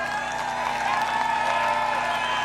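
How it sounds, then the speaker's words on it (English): A crowd on the Iowa Central side claps at a college football game, Tritons against Hutchinson Community College. The applause is steady and distant, with a general crowd murmur and a steady tonal hum beneath it. "Iowa Central's clapping."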